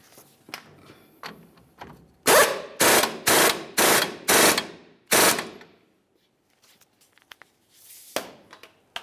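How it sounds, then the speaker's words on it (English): A 24mm lower strut nut on a 2005-2010 Dodge Dakota front strut and spring assembly is tightened with a wrench: five rapid, loud, harsh bursts in a row, then a single shorter burst after a quiet stretch with light clinks. "you can continue by tightening the 24mm lower nut and then torquing it to 155 foot-pounds"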